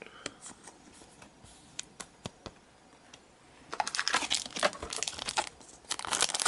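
Foil wrappers of Pokémon card booster packs crinkle and tear open close up, scattered light taps and rustles giving way to a louder, sustained burst of crackling handling.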